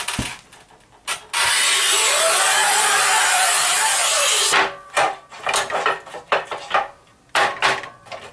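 A Raimondi RAIMO 125 S manual tile cutter works on porcelain tile: a few short clicks, then a sustained hissing scrape of the scoring wheel for about three seconds, followed by scattered knocks and rattles of the handle and tile.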